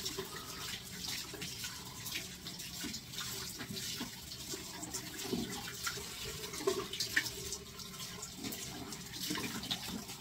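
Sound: water running from a tap, rinsing foam with hot water

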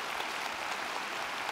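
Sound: audience applause

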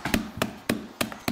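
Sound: hammer crushing Oreo cookies

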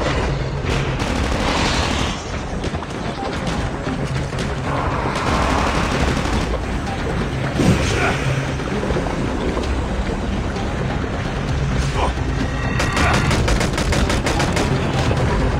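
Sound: pistol gunfire in a video game

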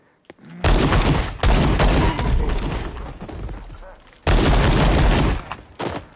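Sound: gunfire in VR game Paint the Town Red

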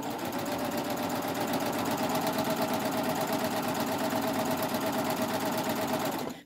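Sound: Baby Lock 8 thread serger sewing knit fabric hem

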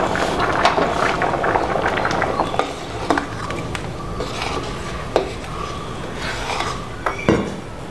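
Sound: curry with mango and jackfruit seeds starting to boil

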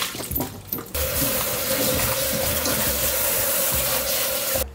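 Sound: washing pickled vegetables under running water

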